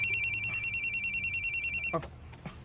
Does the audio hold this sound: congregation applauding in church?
no